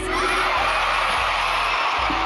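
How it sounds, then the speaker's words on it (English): Screaming fans at a concert at Burswood in Perth, a dense, loud, continuous wall of high-pitched shrieks and yells from a large crowd, with low thumps of music underneath. "You can hardly hear him over the screams."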